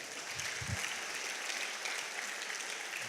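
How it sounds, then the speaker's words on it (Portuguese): Faint, steady applause from a church congregation, soft continuous clapping with a couple of low thumps near the start. "dá um aplauso à vida deles, irmãos"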